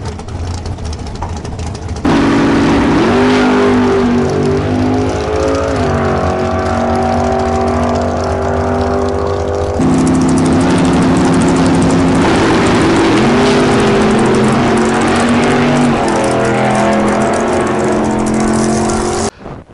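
A race car roars down the drag strip at Auto Club Dragway in Fontana, its engine revving hard through gear changes, loud and close with no talk.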